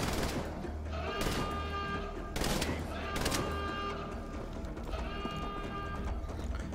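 Gunfire in the video game Wolfenstein The Old Blood: several loud, close bursts of shots separated by short pauses, set against a steady game background with a tonal hum.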